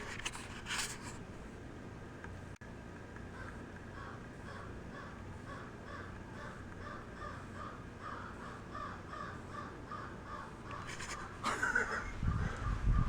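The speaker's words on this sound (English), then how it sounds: "But like, this bird, can you hear it?" A crow-like bird caws repeatedly outside, faint and distant, in a steady rhythmic series over quiet background hiss.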